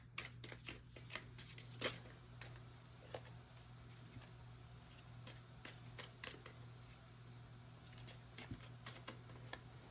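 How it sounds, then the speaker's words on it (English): Tarot cards are shuffled and pulled from the deck, giving quiet, irregular flicks and riffles over a low steady hum, close but faint. "Let's pull some cards out."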